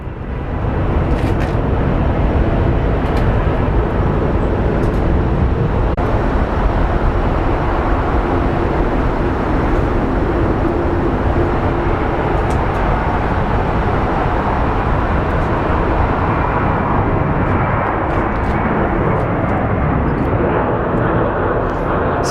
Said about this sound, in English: So that is our second Dreamliner.